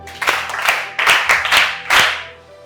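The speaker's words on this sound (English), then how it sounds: "Let's clap for him." A small group claps for a boy in a handful of uneven bursts, close and fairly loud, with gaps between the rounds before it fades to quiet.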